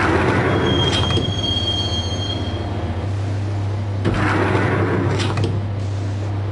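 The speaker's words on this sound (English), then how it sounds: "the train doors had already shut behind me, and I was in for the ride" Max Payne video game train rolling on rails, a steady low rumble with a sustained squeal of metal wheels and rhythmic clacks across the track joints, continuous and fairly loud.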